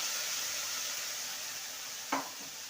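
Onions fried golden in a pan sizzle with a steady hiss, then a soft thud as the prepared spice paste drops in, followed by a brief flare of crackle.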